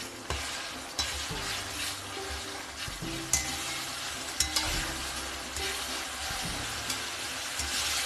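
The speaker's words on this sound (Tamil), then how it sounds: "வெங்காயம் நல்லா வதங்கினதுக்கு அப்புறமா 2 மீடியம் சைஸ் தக்காளி கட் பண்ணி வச்சிருக்கிறத சேர்த்துக்கலாம்." Sautéed onions sizzling in a pan as two medium chopped tomatoes go in for an Indian-style vegetable macaroni pasta, a steady frying hiss broken by a few sharp clicks and stirring knocks.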